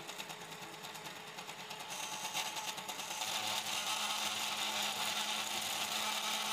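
A pellet extruder 3D printer hums and vibrates with a rapid mechanical buzz from backlash in its mechanics, growing a little louder and rougher partway through and holding steady, with no voices.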